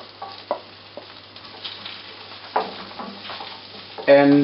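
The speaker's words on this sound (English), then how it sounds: "we would add the chopped garlic into the butter" Chopped garlic and onions frying in melted butter as the base of a broccoli soup: a soft sizzle under scattered stirring clatters, ending in a louder burst of frying, heard close up with a brief word spoken.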